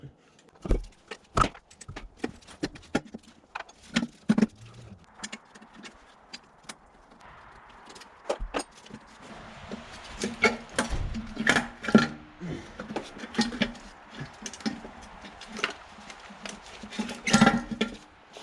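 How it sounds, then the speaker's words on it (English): Sharp metallic clicks and clanks of a wrench loosening a bracket on a 1996–2001 Toyota Camry 1MZ-FE V6 engine, scattered close-up taps with brief pauses over a quiet background. "now I have to use a wrench"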